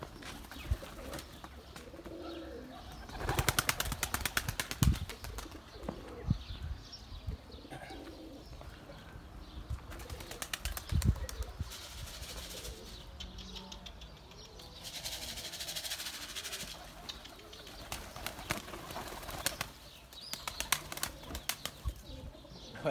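Pigeons landing flap their wings in bursts and coo softly, with scattered outdoor noise between the flurries of wingbeats.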